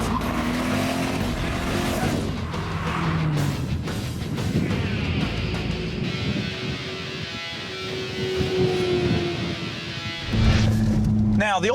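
A rear-mounted twin-turbo C6 Corvette accelerates hard, the engine note climbing through rising pitch sweeps with a brief tire chirp, loud and close, then easing and surging again as a voice talks over it.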